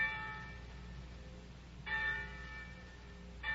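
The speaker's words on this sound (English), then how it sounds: "the winds carried you the clanging of the church bells" Village church bells clang in a slow, distant peal, with strikes spaced a couple of seconds apart, quiet and ringing out over a faint background hiss.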